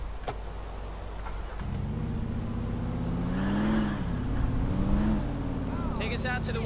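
A car drives through the streets in Grand Theft Auto IV, its engine rising and falling in pitch while it accelerates. Someone talks over the steady motor.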